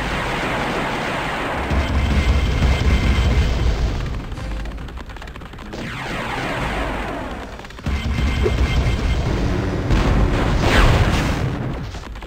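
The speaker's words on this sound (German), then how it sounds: "Die fahrbaren Kanonen." Mobile cannons firing in Spyro 3: Year of the Dragon, a steady barrage of loud booming blasts and rumbling explosions layered over game music, continuing throughout without pause.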